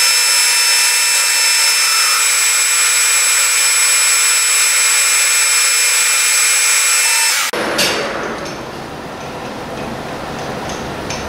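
A lathe takes a ten-thousandths boring pass inside a tube bore, with a steady, loud machining whine holding for about seven seconds before it drops to a quieter, rougher rumble.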